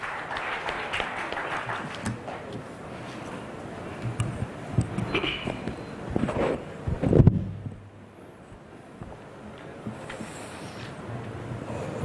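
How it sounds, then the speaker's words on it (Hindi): Audience applause at a smart city summit mayors' conclave in Kalyan, welcoming a mayor: a brief, modest patter of clapping in a hall with some background noise, fading out after several seconds into quiet room tone. "कृपया तालियों के साथ मेयर साहब का एक बार स्वागत कीजिए।"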